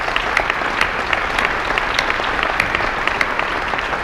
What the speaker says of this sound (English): Please join me in a round of applause to thank them for their leadership over the years